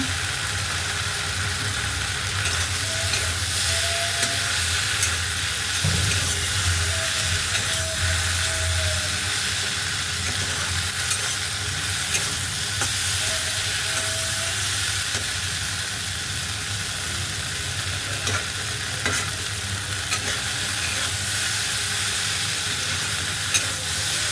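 Okra and egg fry in a pan with a steady, loud broadband sizzle and occasional stirring scrapes, constant and close throughout with no talking.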